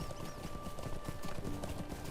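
A horse's hooves clip-clop at a steady trotting rhythm while riding through the North Downs in the online game LOTRO, with a faint musical tone held underneath.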